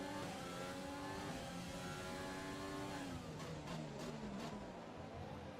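Formula 1 race cars in the F1 2020 racing game, a Ferrari-powered car running with Renault and Honda engines: loud, continuous high-revving engine whine with shifting pitch and gear changes, several cars close together, no talk.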